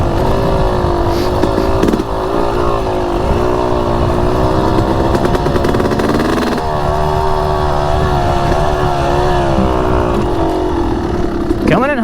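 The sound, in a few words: YZ250X two-stroke dirt bike engine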